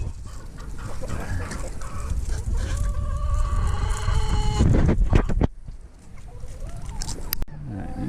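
Backyard chickens cluck and chatter near a coop beside a tomato garden, a loud continuous mix of clucks and calls over outdoor rumble, cut by a few sharp knocks before fading quieter.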